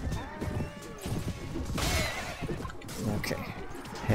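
A horse whinnies and neighs amid clattering hooves and crashing battle noise in the video game Mount & Blade: Warband (Clash of Kings mod), with someone talking over it.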